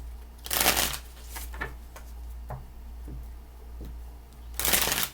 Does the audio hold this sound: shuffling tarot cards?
yes